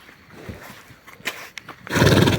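A large mare snorts and shuffles nearby, then lets out a loud, close neigh at the end.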